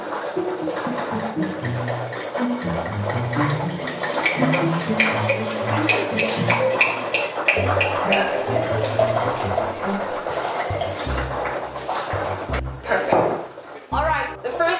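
Sauvignon Blanc wine poured from an inexpensive bottle into a glass, a liquid splash and gurgle running throughout beneath steady talking.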